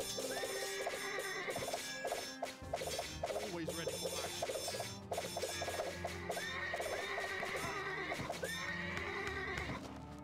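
Horses neigh and whinny repeatedly in the strategy game Kohan: Immortal Sovereigns, loud and close, mixed with hoof clatter and sharp clashing battle hits throughout.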